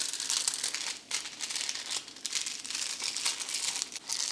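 A roughly six-inch square sheet of aluminum foil being folded up by hand, giving continuous close crinkling and crackling with brief pauses between folds.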